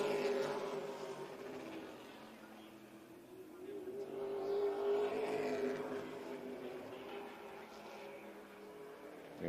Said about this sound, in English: Garrett Hall, and Evan McKnight here in this final practice for the past super late models